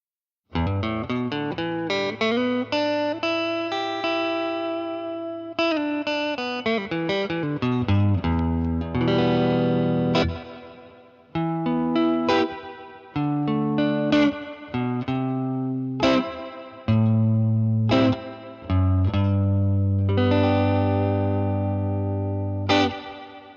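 Electric guitar played through a Purdy reverb pedal into a tweed tube amp, picked chords and single notes ringing with a lush reverb tail, loud and close with no talking.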